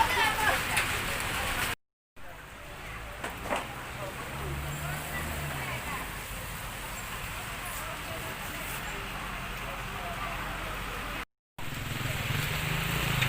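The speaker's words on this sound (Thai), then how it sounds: "ฝนตก" Steady rain falling in Pai, Mae Hong Son, during the rainy season, a continuous hiss of drops on surfaces with faint passing traffic underneath, briefly cut out twice.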